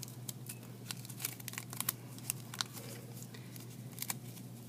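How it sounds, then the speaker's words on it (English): Scissors snip through folded paper while a name snowflake is cut, a series of sharp irregular crisp clicks and crinkles, close up over a faint steady hum. "So the inside I have to fold enough that I can get my scissors in there"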